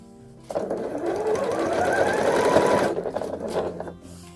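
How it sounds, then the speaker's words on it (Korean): Sewing machine runs a straight seam with a 1 cm seam allowance up from the bottom of a string eco bag: a close, steady motor whir and needle rattle that starts abruptly, holds for about two and a half seconds, then stops, with no talk. "바닥부터 박음질을 해서 1cm 시접으로 쭉 가주세요."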